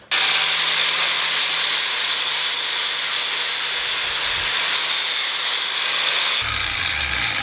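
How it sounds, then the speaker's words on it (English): Flap disc on an angle grinder smoothing a steel tube of an older Trek bicycle frame, a loud continuous abrasive whine running steadily for about six seconds before cutting off abruptly. "So the flap disc is just like sandpaper. I'm gonna go over that and smooth this out a little bit"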